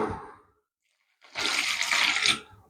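Water is poured into a fishing groundbait mix of crushed expander, heard as a brief splash, then a pause, then a loud close rush of pouring water lasting about a second.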